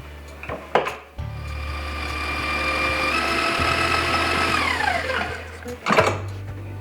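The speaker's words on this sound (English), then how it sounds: "we're gonna add in our sugar, and we're gonna be creaming all of this together" An electric mixer creams sugar into a strawberry mixture in a bowl for kiwi strawberry cookies, a steady whirring drone running for several seconds with clattering bumps at the start and as it stops, no talking.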